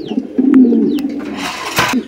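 Pigeons coo in a low, throaty murmur close by in a large loft in Gazipur, with a few thin chirps and a brief rustle near the end.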